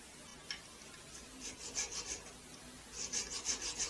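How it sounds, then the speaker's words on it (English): Ends of a homemade tap drill guide hand-sanded or filed in a home shop, heard as faint, close rhythmic rasping strokes in two short bursts with quiet gaps between. "Then I'm gonna hand sand it."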